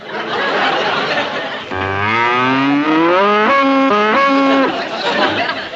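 Cattle moo in a long, drawn-out run of rising and falling calls over a barn setting, following a burst of chatter and laughter, loud and close.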